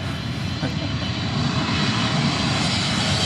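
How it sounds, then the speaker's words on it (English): A Japan Airlines 777-300ER jet coming in to land, a loud continuous roar of engine and airflow noise that holds steady and swells slightly throughout, with no voices. "It's like the Japan Airlines 777-300ER coming in from Tokyo."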